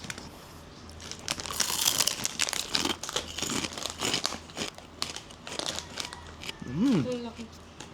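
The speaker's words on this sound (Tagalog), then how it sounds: "Buksan muna yan, nang matikman na natin." Crinkly plastic snack package torn open and crumpled close by, with bursts of crackling and rustling, under intermittent talk and a brief whistle-like sweep near the end.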